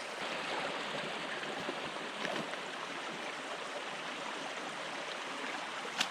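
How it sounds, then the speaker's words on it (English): Spring meltwater runs steadily into a wellhead outdoors, a soft, even rushing trickle that holds at a low, constant level. "The water's kind of flowing into it."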